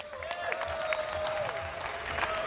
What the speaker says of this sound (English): Please, a round of applause for being so great today.